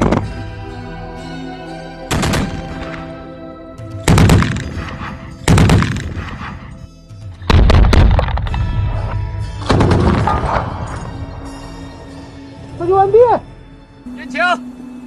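Rifle shots at a military firing test on moving targets, about six single loud reports spaced a couple of seconds apart, each with a ringing echo, while a commentator talks over them.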